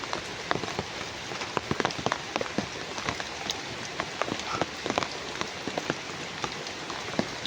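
Steady rain patters on a surface, dense and close, with sharper individual drips tapping irregularly through the continuous hiss.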